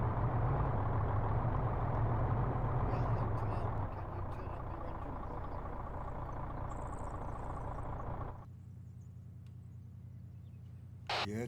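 An armored vehicle's engine idles in the field, a steady low hum and rumble that holds continuously, dropping in level partway through, with faint insect or frog chirps over it and a brief noise at the end.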